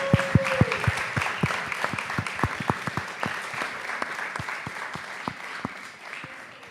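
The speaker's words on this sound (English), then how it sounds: "Please, can we give her another round of applause?" Audience applause at a conference fills the room, dense clapping running steadily throughout with individual sharp claps standing out close by, briefly overlapping a sustained tone at the start.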